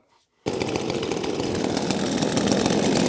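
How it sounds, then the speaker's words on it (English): Four Neotec chainsaws (NCS2500, NH843, N82I, NS8105) running together, a dense, loud, continuous buzzing roar that starts abruptly after a brief quiet moment and holds steady. "we're just going to have some fun with chainsaws. I've got all 4 of them started up and running"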